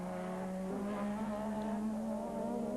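Formula One turbo race cars at Kyalami in 1985 roar past back markers, a steady high engine drone with rising and shifting tones, distant and continuous with no talk.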